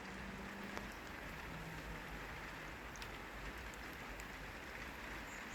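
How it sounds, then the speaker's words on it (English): Steady rain falls outdoors as a faint, even hiss that is not heavy and holds constant for the whole stretch. "You can probably hear it. It's raining."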